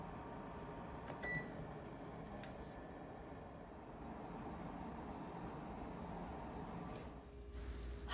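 A steady, low electric oven hum from cookies baking at 170 degrees, a continuous quiet drone with a couple of faint clicks and ticks near the start.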